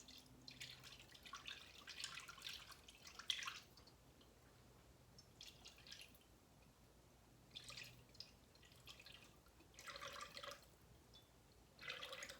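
Melted tallow poured through a pantyhose strainer gives faint, wet trickling and dripping in several short bursts, quiet and close, with no talking.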